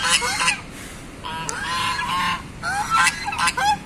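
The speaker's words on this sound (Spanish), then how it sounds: "los gansos tienen una característica, es que tienen un sonido muy fuerte, como no lo tienen las demás aves" Geese honk loudly and repeatedly nearby, harsh nasal calls overlapping in bursts with brief gaps, with no talk over them.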